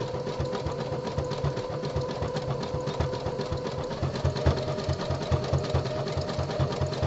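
A home sewing machine runs steadily, stitching a boxer brief body panel cut from scuba knit fabric, its fast mechanical chatter and motor hum continuous and close throughout.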